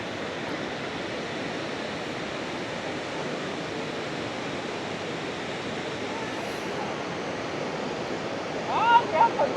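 The Iguazu Falls waterfall in Brazil roars as a steady, broad wash of rushing water close by, continuous throughout, with a brief faint voice near the end.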